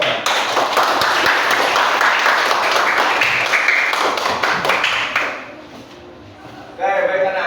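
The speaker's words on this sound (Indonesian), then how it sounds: "tepuk tangan kita semua" A classroom of children bursts into sustained applause, a dense loud patter of overlapping claps for about five seconds before fading, then a teacher's voice speaks.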